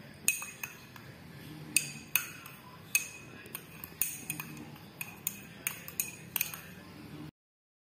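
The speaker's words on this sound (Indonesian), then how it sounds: "Lalu kita aduk secara merata." Spoon or rod clinking repeatedly against a glass container while stirring a chemical solution for a simple redox reaction experiment, a run of sharp, close, irregular ticks and chimes over a quiet background.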